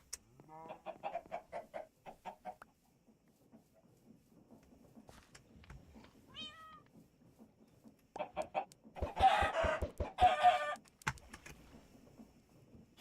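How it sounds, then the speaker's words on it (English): Minecraft chickens cluck in short repeated bursts in a blocky game world, with keyboard-like clicking and soft game sounds in between, the later clucks louder and denser. "Sorry to throw eggs at your chickens"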